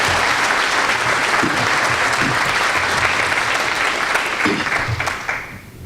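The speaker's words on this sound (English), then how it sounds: "Round of applause." Sustained applause from an audience at a school of business recognition and scholarship reception, steady and fairly loud for several seconds before tapering off at the end.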